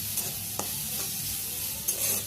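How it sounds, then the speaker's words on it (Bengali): Chanda fish sizzling in a little hot oil, a steady dense hiss of frying with a couple of soft stirring scrapes, close and even throughout. "মাছগুলোকে আবার ভেজে নেব।"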